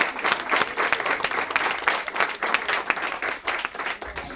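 Audience applause for a gathering of young people at a school event on chronic absenteeism, a dense, steady wash of many hands clapping, loud and close throughout.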